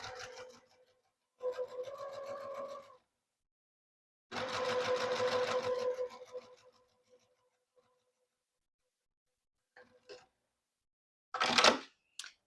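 A sewing machine stitches a purse interior panel in three bursts of steady whirring needle action, close and clear, separated by silences, followed by a few faint clicks and a sharp handling sound.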